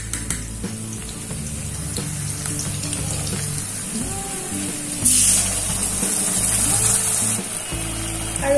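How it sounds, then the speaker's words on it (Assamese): Onions sizzle in oil with a paste of ginger, garlic and mustard seed plus green chilies, cooking for a fish curry; a steady frying hiss surges louder midway as the pan heats, with faint background sounds beneath. "আৰু পিঁয়াজখিনি মই অলপ সময় ভাজি ল'ম"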